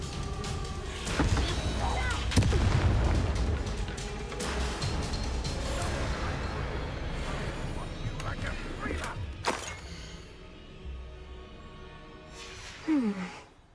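Bombarda explosion spell cast in the Hogwarts Legacy video game: blasts, thuds and shattering crashes in bursts over about fourteen seconds, with magical whooshes and a game voice calling spells.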